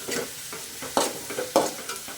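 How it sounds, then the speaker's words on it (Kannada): Mint and coriander leaves fry in oil with onions for homemade pasta, a bright sizzle punctuated by two or three strong scraping strokes of a spoon stirring the pan, close and loud with no talk. "ಕೊತ್ತಂಬರಿ ಸೊಪ್ಪು ಪುದೀನ ಎಲ್ಲ ಚೆನ್ನಾಗಿ ಆಯಿಲಲ್ಲಿ ಚೆನ್ನಾಗಿ ಫ್ರೈ ಆಗಬೇಕು"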